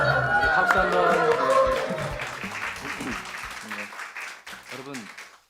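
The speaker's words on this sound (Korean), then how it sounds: "박수 한번." Applause from the congregation during a Sunday church service, a burst of clapping under music and voices that gradually thins out as someone starts talking.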